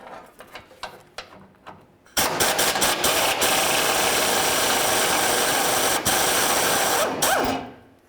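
A power tool removes the fuel tank mounting bolts underneath a 1994-2004 Chevy S-10, whirring and rattling loudly in a steady burst of about five seconds after a few lighter clicks, with brief pauses near the end.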